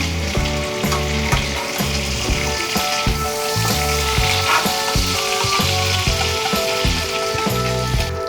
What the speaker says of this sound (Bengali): ঠিক এইভাবে চিংড়ি মাছগুলোকে ভাজতে হবে।